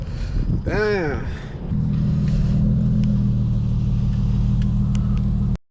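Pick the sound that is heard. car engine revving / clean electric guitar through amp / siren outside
car engine revving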